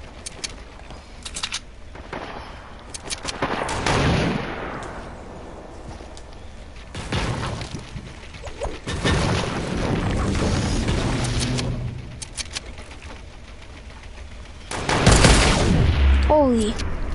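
Sniper shots and gunfire in the Fortnite video game, several loud sharp cracks and bursts spread across a busy game soundscape, with brief talk mixed in.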